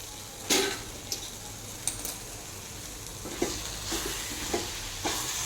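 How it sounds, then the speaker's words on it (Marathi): Khurasani wild greens cooking in a pan, with a soft background sizzle broken by occasional sharp scrapes and clinks of a spoon stirring, fairly quiet and close, no talking. "याला आता मी छान मिक्स करून घेणार आणि पाच मिनिट मंद आचेवर झाकण ठेवून शिजवून घेणार"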